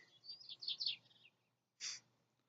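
Birds in a meadow give a quick run of high chirps followed by a pause and one more brief bright call, thin and fairly close against near silence.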